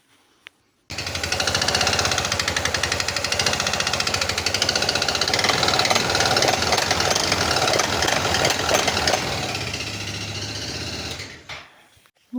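A steady, loud mechanical whirring and rattling from the variator side of a running Aprilia Scarabeo 200 ie scooter, continuous for about ten seconds before cutting off abruptly.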